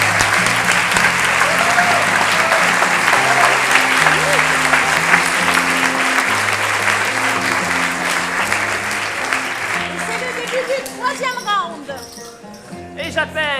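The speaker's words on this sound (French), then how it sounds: "nous allons faire un tonnerre d'applaudissements aux joueurs numéro 6," Loud, sustained audience applause at an improv theatre show in Paris, dense clapping filling the room for about ten seconds before thinning out as a few voices and shouts break through near the end.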